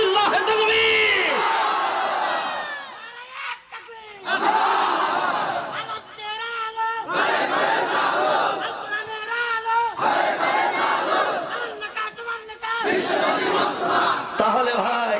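A large crowd roars back in repeated, forceful chants of takbir answering a Bengali preacher at a religious gathering, loud swelling waves of shouting separated by short pauses.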